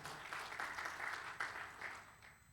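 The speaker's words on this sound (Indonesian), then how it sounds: "Mari berikan tepuk tangan." Congregation applause at a church service, a steady wash of many hands clapping at moderate distance, fairly faint.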